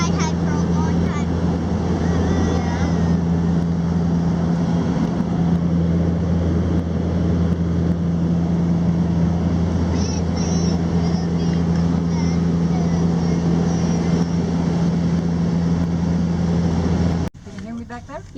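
Small plane flying far north toward Tuktoyaktuk, a loud, steady engine drone and propeller hum inside the cabin for the whole stretch, with faint voices underneath, cutting off abruptly at the end.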